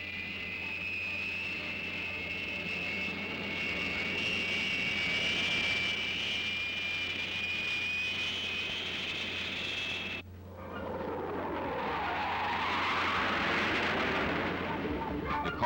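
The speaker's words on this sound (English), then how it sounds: "Craig's dream came true in 1963 when he fired the engine of his Spirit of America at Bonneville" The Spirit of America jet-powered land speed record car at the Bonneville Salt Flats in 1963 roars loudly and continuously with a piercing high whine, then the sound abruptly shifts into a broad, rushing roar.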